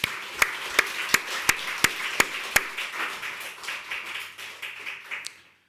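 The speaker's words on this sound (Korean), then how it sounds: "박수 한번 올립시다." Congregation clapping in a church during a sermon, a burst of sharp, regular claps about three per second merging into dense, steady applause that fades out at the end.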